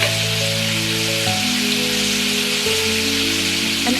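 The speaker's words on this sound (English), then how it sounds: "I'm adding the squid tentacles first" Squid tentacles sizzle steadily in a hot pan for a spicy squid and pork stir fry, a dense continuous frying hiss with a low hum underneath and no talk.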